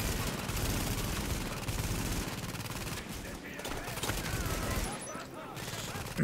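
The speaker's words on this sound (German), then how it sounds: "Dann mal schön hier mal unser Geschütz ein bisschen arbeiten lassen" A deployed turret fires in the video game The Division, rapid bursts of automatic shots that crackle densely and steadily, easing off briefly before resuming. A voice speaks quietly underneath.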